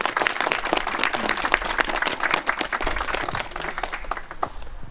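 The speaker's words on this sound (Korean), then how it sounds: "힘찬 박수 부탁드립니다." Dense audience applause fills a 22nd-anniversary memorial ceremony for a fallen activist, many hands clapping loudly and steadily throughout without a break.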